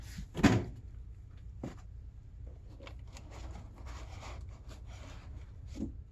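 A drawer is pulled open and a camera is lifted out of styrofoam packing at the back of it, giving one sharp knock followed by soft rustling and scraping handling noises, close and fairly quiet.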